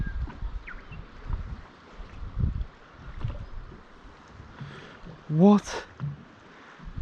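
Strong wind gusts buffet a fishing boat on Lake Eildon, rumbling in uneven bursts across the microphone while someone briefly speaks.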